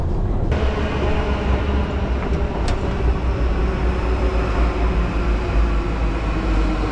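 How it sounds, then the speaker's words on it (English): A train in Turkey pulls into a station platform, producing a steady, loud, close rumble of wheels and rail noise throughout with no talk. "The train will stop at the end of the platform."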